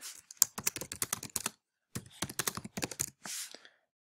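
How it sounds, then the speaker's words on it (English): Close, crisp typing on a computer keyboard while text goes into a web page editor, coming in two quick bursts of keystrokes with a brief pause between. "And I can type in whatever I like."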